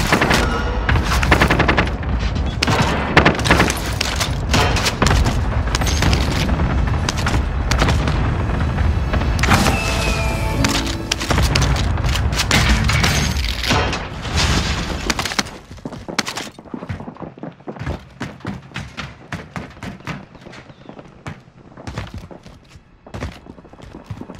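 Airstrike explosions in Call of Duty: Modern Warfare, loud booming blasts and rapid crackling detonations packed densely together over heavy rumble, thinning into scattered bursts and distant thuds toward the end.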